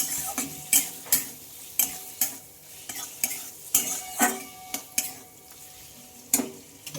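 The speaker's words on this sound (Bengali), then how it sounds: "এবার খুব ভালোভাবে চাল কুমড়োটাকে আমি মিশিয়ে নেবো" Ash gourd being stirred with spices in a hot pan, sharp rhythmic clinks and scrapes of a spatula roughly every half second over a low sizzle, close with no voices.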